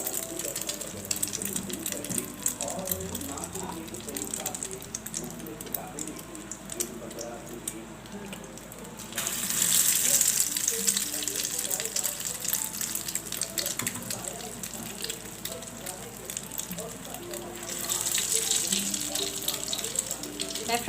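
Potato and egg kababs frying in hot oil with a continuous close crackle and hiss that swells louder at times, while someone talks over it.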